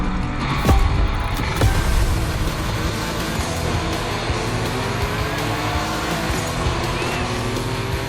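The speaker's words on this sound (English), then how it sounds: "The RWB 911 Turbo. It's just a spicy Beetle, except this one is really fast." A fast RWB Porsche 911 Turbo in The Crew Motorfest roars steadily at close range with a dense, continuous engine drone, a brief loud burst near the start and faint tire noise throughout.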